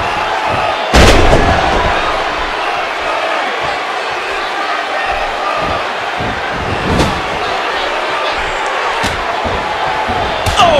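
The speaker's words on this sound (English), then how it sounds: "What a kick to the head." A wrestling match with a sharp kick to the head landing as a loud slap-like impact early on, followed by further thuds over a continuous crowd roar; commentators talk throughout.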